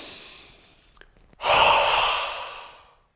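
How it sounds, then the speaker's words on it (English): Hot breath pushed out through the open mouth during qi gong breathing: a faint intake, then one long, loud, close exhale that slowly fades over about a second and a half, with no talking. "It's a hot breath."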